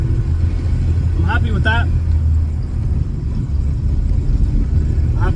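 Low, steady engine drone from a Mini car fitted with a VTEC engine, idling and revving in a garage, heard close with someone speaking briefly over it.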